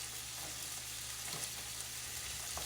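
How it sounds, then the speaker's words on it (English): Chopped onion sizzles in a skillet with a steady, faint frying hiss that holds even throughout. "I am just gonna cut my onion into my skillet"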